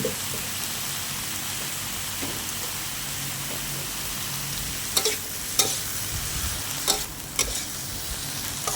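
Tofu stir-fried in a pan for a Thai chili tofu dish: a steady, even sizzle of frying runs throughout, with a few sharper scraping and stirring clatters near the end.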